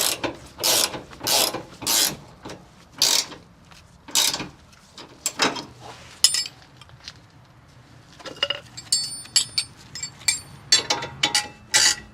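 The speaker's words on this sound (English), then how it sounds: "we're going to torque the nuts to 65 foot-pounds" A ratchet torque wrench tightens the nuts on a Bilstein 5100 rear shock on a Ford F150 pickup, giving bursts of sharp ratcheting clicks in short strokes with pauses, close and clear.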